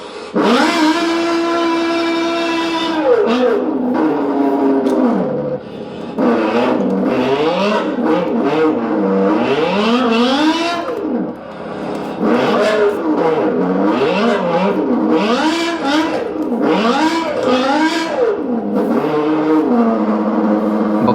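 A BMW E60 M5 V10 engine in Assetto Corsa revs hard and continuously, loud and close, with rising and falling gear-change sweeps, a few brief lift-off dips, and tire noise during drifting.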